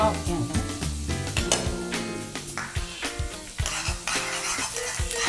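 Garlic fries in a pan for mutton keema while being stirred: a constant sizzle with repeated metallic scrapes and clinks of a spoon against the pan, plus a tonal musical background throughout.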